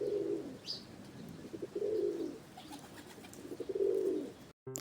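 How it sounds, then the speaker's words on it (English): A pigeon coos three times in soft, rolling, low calls with short pauses between them, close and clear against faint background noise, with no talking. "I am a pigeon, I make sound coo."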